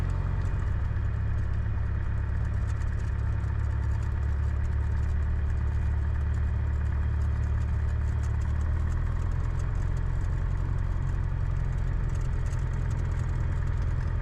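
A light aircraft engine drones steadily and loudly while taxiing on a rough grass taxiway at OshKosh, with a constant low rumble and no noticeable change in pitch throughout.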